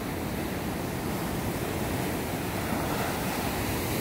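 Big surf from a typhoon swell pounds steadily, a dense continuous roar of breaking ocean waves with some wind noise on the microphone and no voices.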